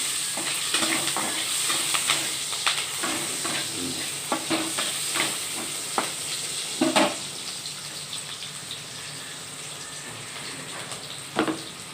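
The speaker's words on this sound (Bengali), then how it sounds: "ক্যাপসিকামটা একটু ভাজা হবে" Capsicum sizzles steadily in hot oil left from frying fish, with a scatter of spatula knocks and scrapes through the stirring and a louder clatter near the middle.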